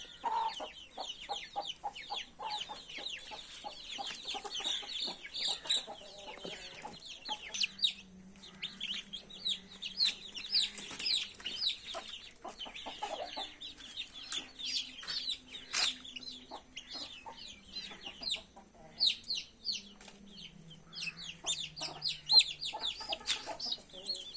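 Chicks and hens cluck and chirp continuously with no one speaking, the calls dense and overlapping, close by.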